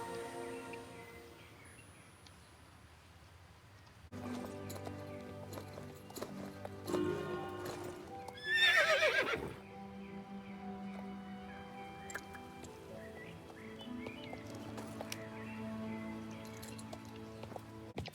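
A horse being ridden in a video game, steady clip-clop of hooves at a galloping pace, with a loud whinny midway through over faint ambient game sounds.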